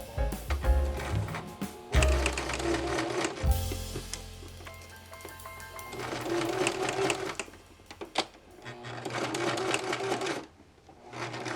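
A sewing machine stitches a zipper onto a fancy gown, running in several bursts of rapid mechanical whirring and clatter with brief pauses and handling noises between runs, close up.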